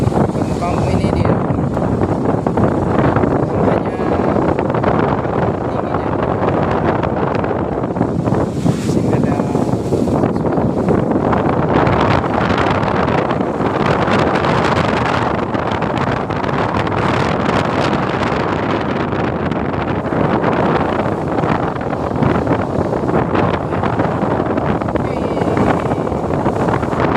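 Strong wind buffets the microphone in a continuous loud roar, with heavy wave noise underneath, during a storm in the Aru Islands. A person talks over the din.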